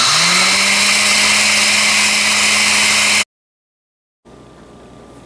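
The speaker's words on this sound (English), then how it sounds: "So I'm going to start blending it again. You can see it in my blender." A kitchen blender grinds oatmeal into powder with a loud, close, high-pitched whir for about three seconds, then cuts off abruptly into silence before a faint low hum returns.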